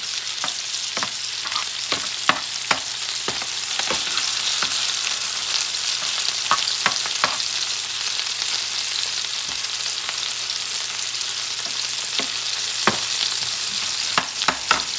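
Shallots fry in a pan with a continuous loud sizzle, and the scrape and tap of a utensil stirring them comes through close by at irregular moments.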